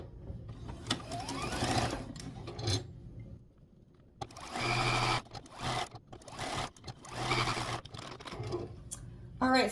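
A home sewing machine stitches quilt blocks and rows together in bursts of rapid whirring, pausing briefly between runs, close and fairly loud with faint talk in the background.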